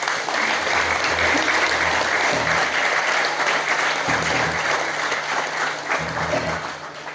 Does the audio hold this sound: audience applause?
yes